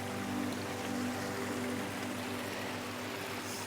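A mountain creek flows near Göscheneralpsee in Switzerland, producing a steady, even rush of running water close by, with no talking.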